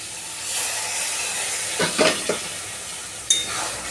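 Water is poured into a pan of simmering curry with potato and cauliflower. It sets off a burst of hissing and sizzling steam, with a few splashy pulses over a steady background hiss and no speech.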